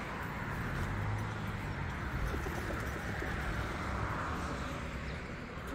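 Pigeons in a garden in Germany give low, soft cooing over a steady wash of outdoor background noise, with no talking.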